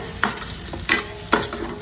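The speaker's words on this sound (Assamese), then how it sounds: "এতিয়া মই ইয়াতে দি দিম আলুখিনি প্ৰথমতে আলুখিনি ভাজি লওঁ" Potatoes sizzle in oil in a pan while a utensil stirs them, with three sharp scraping strokes over a steady low frying hiss.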